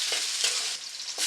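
Small onions sauté in hot oil in a pan for a spicy chicken curry, a steady soft sizzle with occasional stirring scrapes, close and moderately quiet, no talking.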